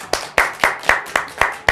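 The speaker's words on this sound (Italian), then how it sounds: "Facciamo un applauso?" Children clapping together in a rhythmic series of about seven sharp, evenly spaced claps, fairly close and clear with no talking.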